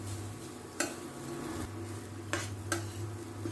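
Mung dal kachori filling being roasted and stirred in a pan: a low, steady sizzle broken by a few sharp scrapes and taps of a utensil against the pan, close and fairly quiet, with no talking.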